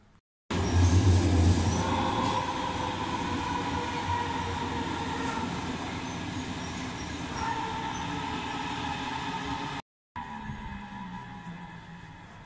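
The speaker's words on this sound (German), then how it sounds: "Die S11 ist jetzt eingefahren." An S11 S-Bahn train pulls into the Düsseldorf Airport station with a steady, loud rail rumble and wheel noise that holds evenly, briefly cuts out, then resumes. No speech is heard.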